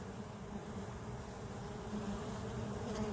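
Honey bees hum steadily at a beehive entrance, a dense, continuous close-up buzz of many insects with no talking.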